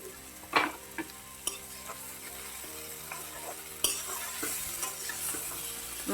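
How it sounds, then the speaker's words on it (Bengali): Fried mourala fish go into a pan of spiced masala and are stirred. Close, soft sizzling runs under scraping spatula strokes, with sharper clatter near the middle of the stretch. "এখন বেজে রাখা এই মকা মাছগুলো দিয়ে দিচ্ছি"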